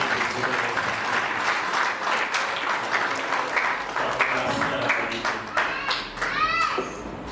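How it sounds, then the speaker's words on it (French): A church congregation applauds together during a Sunday service, sustained dense clapping that swells and holds steady, with voices and cheers mixed in near the end. "Alors, mettez-nous ensemble pour nous acclamer ici."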